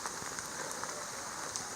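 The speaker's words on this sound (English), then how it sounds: "Still raining." Steady rain falling on surfaces around a round, bluish spring in the Ozarks, a constant soft hiss with faint pattering drops, no voices.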